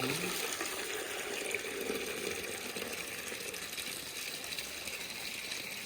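Water from a borewell pump gushes into a tank in a steady, broad hissing rush, constant and fairly near, with no speech over it.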